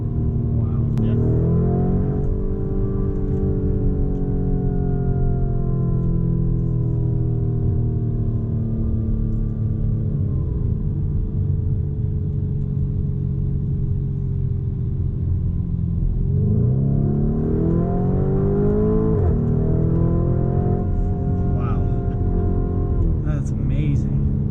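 A 2019 Lamborghini Urus twin-turbo V8 SUV engine revs and accelerates with a deep, steady roar, the pitch sweeping down then climbing again, loud and close throughout.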